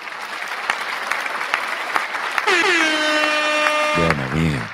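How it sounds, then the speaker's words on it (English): Audience clapping at a live talk, a burst of hand claps followed by a sustained horn-like blare that cuts off near the end, with voices in the background. "Let's get a hand clap."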